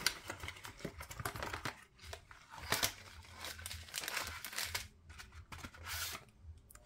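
Plastic packaging of a Disney craft kit being opened by hand, with close, quiet crinkling and rustling in irregular bursts and short pauses.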